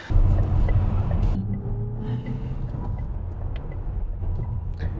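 Mazda 6e electric car accelerating, a low road and motor rumble that swells briefly at the start, then settles into a steadier, softer drive hum with faint tyre noise.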